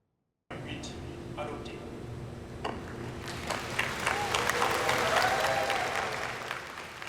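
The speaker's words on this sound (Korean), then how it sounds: "환호성과 함께 박수가 터져 나옵니다" Cheering and applause erupt at the moment the Seosan tidal flat is confirmed as a World Natural Heritage site, clapping starting sparse and swelling into a loud, dense burst from a crowd.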